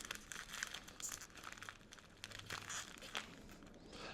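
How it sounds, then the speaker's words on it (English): A letter opener with a razor blade slices through a tightly taped package, giving a steady run of crinkling, tearing tape and cardboard scrapes at close range, with no talk. "I'm going to go ahead and try and use one of these letter openers here to get in here and open it up"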